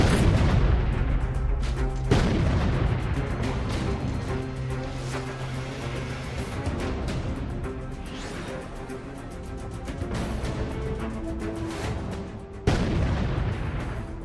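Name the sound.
explosion blasting a house where militants hid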